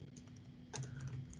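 Keys tapped on a computer keyboard during a metadata training session, a few soft, close clicks scattered over a steady low electrical hum, with no talking.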